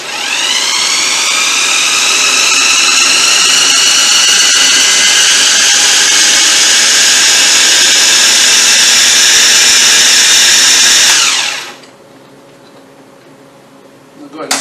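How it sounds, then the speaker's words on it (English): A blender running on its puree setting whirs loudly and steadily as it blends gazpacho for about eleven seconds, its high motor whine rising slightly, then cuts off abruptly into near quiet. "We're going to go ahead and put this on the puree setting."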